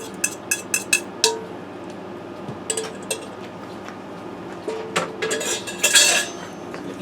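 A dozen scrambled eggs stirred in a Ninja Foodi pot, the utensil scraping and clinking against the metal in a run of sharp, close taps that come in bursts, busiest near the end, with no one talking.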